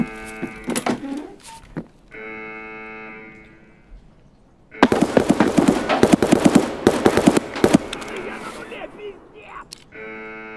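Gunfire in the video game Escape From Tarkov comes through a wall as a dense, loud automatic burst of rapid shots lasting several seconds, with shorter tonal game sounds and bursts before and after.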